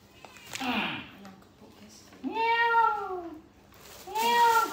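Cat meowing close by, three drawn-out rising and falling meows with a short sound between them, loud and clear in a quiet room.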